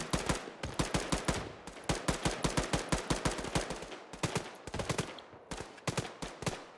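Rapid gunfire in the military shooter Arma 3, long bursts of sharp automatic shots in tight, even rhythm with brief pauses between volleys, fairly distant and heard alone without speech.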